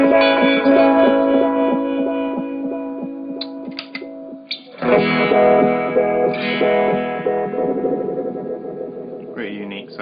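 A Lovetone clone phaser pedal set to its LFO1 mode sweeps a sustained, swirling tone over distorted guitar-like chords, with the texture shifting midway as new notes ring out.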